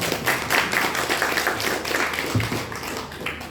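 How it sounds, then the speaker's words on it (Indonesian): Studio audience at an Indonesian talk show about creative villages in Lampung clapping, a steady mid-level patter of hands lasting a few seconds with faint room murmur underneath. "beri tepuk tangan dulu dong oleh Mbak Rati"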